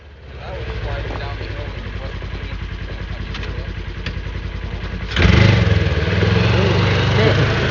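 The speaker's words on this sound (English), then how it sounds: "Everybody's got to give the new UTV a little test drive." A small UTV engine rumbles steadily, then revs louder partway through, with people talking over the running motor, outdoors on turf.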